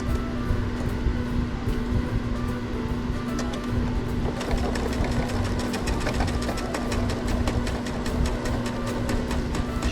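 A domestic sewing machine runs a straight stitch near the edge of a quilted hot pad, its motor humming steadily with a rapid needle patter that quickens and sharpens midway, close and alone.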